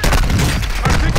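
Dense burst of gunfire in Call of Duty: Modern Warfare II striking the player, loud and continuous with booming low end, while voices react over it.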